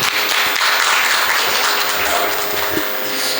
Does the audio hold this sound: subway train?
no